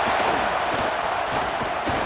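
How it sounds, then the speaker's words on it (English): Home crowd in EA Sports College Football roaring as a dense, unbroken wall of noise, loud and steady throughout, with faint rhythmic thumps beneath the cheering. "how nice is it to have the home crowd going absolutely bananas"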